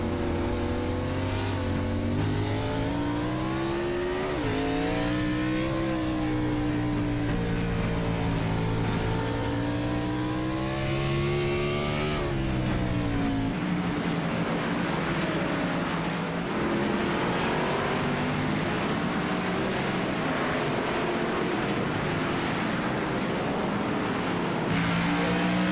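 Onboard engine of a race car in iRacing, a loud continuous high-revving note that climbs and drops with gear changes and braking, then settles into a rougher, steadier drone.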